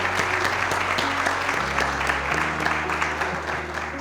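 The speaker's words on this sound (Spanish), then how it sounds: "Doble aplauso." Steady audience applause fills a seminar hall, dense overlapping clapping at a constant level for about four seconds with a low hum beneath.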